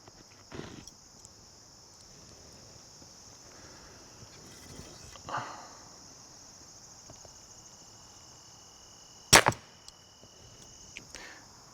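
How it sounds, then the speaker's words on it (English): Arrows fired from a compound bow rip through a paper tuning sheet about six feet away, giving a few sharp, brief snaps, the loudest near the end, over a quiet background of steady insect chirping. "So we're going to shoot some arrows through the paper."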